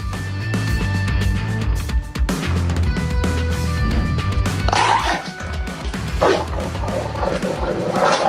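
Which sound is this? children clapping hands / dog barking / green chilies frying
dog barking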